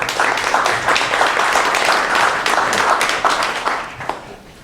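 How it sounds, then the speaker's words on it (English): An audience at a tech presentation claps for system administrators, a fairly loud, continuous round of applause that tapers off toward the end. "round of applause for them?"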